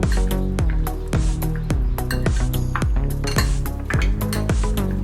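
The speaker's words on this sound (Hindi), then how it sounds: "चिकन मैरिनेट करके देंगे हम, हल्दी और चिकन मसाला। अभी मिक्स करके लेंगे।" Marinated chicken being mixed with turmeric and chicken masala in a bowl, a utensil clinking and scraping against the dish in a loud, steady run of close knocks and rattles, with no talking.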